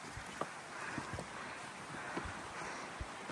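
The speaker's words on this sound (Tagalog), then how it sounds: "Yung naririnig nyo po is hindi po yan spring or river. Hangin po yan, hangin." Steady wind blowing outdoors on the Mt. Ulap hiking trail, a broad continuous rush with occasional low gusty thumps against the microphone.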